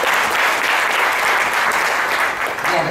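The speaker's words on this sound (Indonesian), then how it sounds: "Tepuk tangan paling meriah untuk kita semua" A large audience breaks into loud, sustained applause, a dense, even wash of many hands clapping together without a break for several seconds.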